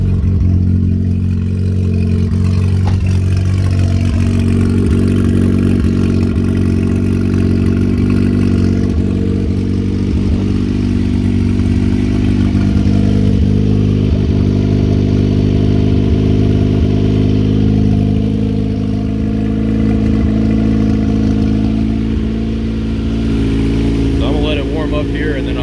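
A turbocharged H22A engine in a fifth-generation Honda Accord idles steadily and loudly for the whole stretch, a dense low rumble with mechanical clatter, while a person talks over it now and then.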